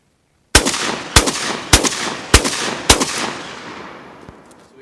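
Five sharp, loud Lynx-12 shotgun blasts fired at roughly even half-second intervals with light recoil ammunition, each followed by echoing decay that trails off outdoors after the last shot.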